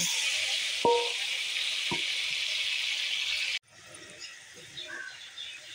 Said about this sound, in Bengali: এই তেলে আমি আলু কটা ভেজে নেব।